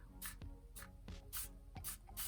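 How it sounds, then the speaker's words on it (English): A spray bottle misting onto saturated watercolor paper wet with ink: four short, close hissing bursts at a steady, unhurried rhythm with quiet pauses between them and no talking. "with a spray bottle"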